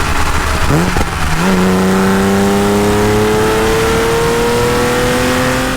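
A 1988 Porsche 911 Carrera engine revs up loudly through a custom plain steel exhaust, then holds a rising, sustained roar, close and continuous.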